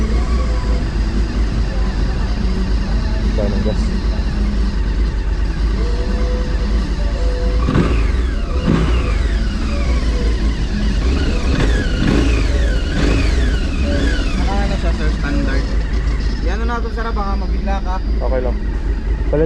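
A 1000cc big bike motorcycle engine revs loudly and repeatedly, rising and falling throughout, with people talking over it.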